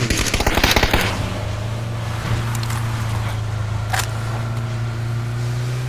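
Burst of rapid gunfire in the PUBG Battlegrounds video game, fired from a moving car on a snowy winter map, crackling loudly for about a second over a steady engine hum that continues with a couple of faint later shots.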